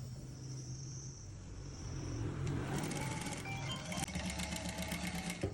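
Sewing machine stitching a saree blouse, a quiet hum picking up into a steady, rattling whir partway through, close and continuous.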